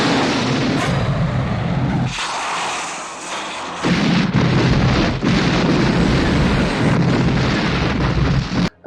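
A model aircraft hangar explodes in a James Bond film pre-title sequence, a loud, sustained roaring blast with a brief lull in the middle before the rumbling debris noise surges back and continues.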